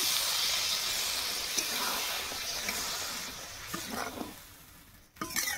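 Water poured onto spice paste frying in a pan for loté fish curry sets off a loud, steady sizzle and hiss that slowly eases, ending with a brief clatter and renewed spitting.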